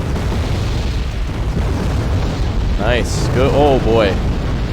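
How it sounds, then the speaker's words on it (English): Heavy bombs from an air strike explode over ground units in the Wargame: Red Dragon strategy game, producing a continuous loud, rumbling roar of blasts while someone speaks briefly over it. "Bombs are away."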